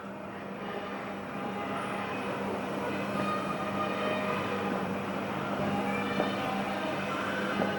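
Model train running on a layout at the Brighton Toy and Model Museum, a steady mechanical rumble and whir with faint clicks, continuous and moderately close, with no talking over it.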